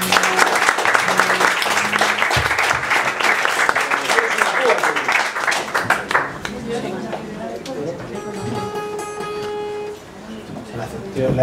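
Sustained audience applause fills a live music concert, dense clapping with a few shouts, thinning out after about six seconds as talking and a sustained tone take over.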